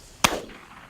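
A single sharp shotgun blast cracks out close by during an upland bird hunt, its report decaying quickly into quiet field ambience.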